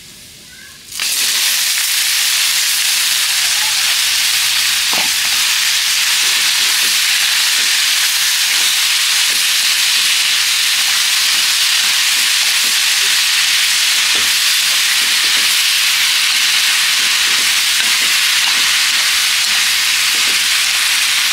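Salted radish stir-frying in hot oil, a steady loud sizzle and hiss with faint scraping and stirring clicks throughout, close to the pan with no talking.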